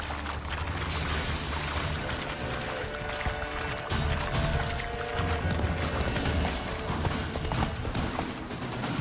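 Roach, a horse in The Witcher 3, gallops with steady rhythmic hoofbeats clip-clopping over a loud, dense bed of game ambience and music, continuous for the whole stretch.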